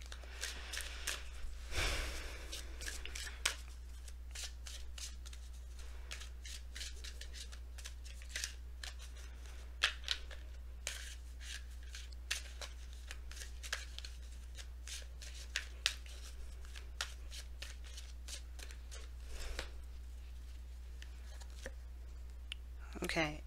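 Messenger Oracle cards are shuffled close by in soft, repeated riffling and tapping bursts over a low steady hum, with occasional breaths between the handling.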